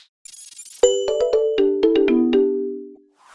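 A notification-style sound effect of several bright, ringing chime dings in quick succession, close and clear, with overlapping tones that sustain and decay.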